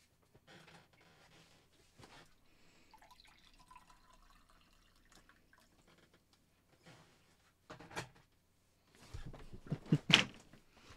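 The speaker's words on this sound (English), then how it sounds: "I'm going to pour another cup of tea." Tea is poured into a cup in a quiet room: mostly near-silence with faint small knocks, then a short trickling pour and a splash near the end.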